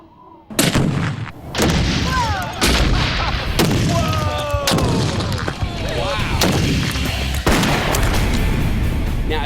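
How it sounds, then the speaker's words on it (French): A single bullet sets off a doubled charge of binary explosive, giving a series of loud, sharp booming blasts with long rumbling echoes that repeat through the scene and leave no quiet gaps between them. "Ce qu'on cherche à savoir maintenant, c'est si une seule balle peut suffire à faire exploser une grande quantité de mélange."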